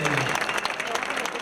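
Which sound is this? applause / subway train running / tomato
applause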